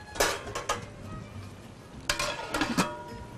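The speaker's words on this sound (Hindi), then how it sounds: "इसको मैं कवर कर रही हूँ जरा" A pot of chicken and potato korma is covered with its lid: two clusters of sharp metallic clanks and scrapes, close and loud, over a faint background hiss.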